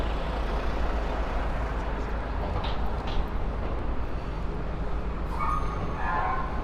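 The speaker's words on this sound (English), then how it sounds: "This is the 57th Street subway station. You could take the F train up or downtown from right here." Rumbling subway ambience inside the 57th Street station in New York, served by the F train, with a steady low-frequency roar of rail traffic and brief higher squeals near the end.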